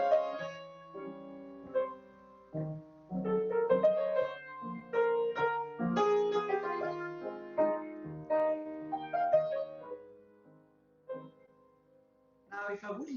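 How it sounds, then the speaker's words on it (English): Solo piano playing a Chopin piece in a masterclass setting, a flowing melodic line over chords with varied dynamics, close and clear with no talking. "So imagine I'm playing a Chopin, another Chopin piece."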